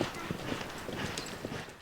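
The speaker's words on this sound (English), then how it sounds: "like this beautiful buckskin I'm riding, Peyton." Buckskin horse being ridden at a Colorado ranch, its hooves clip-clopping in a quick uneven rhythm, faint and fairly close with possible voice sounds mixed in.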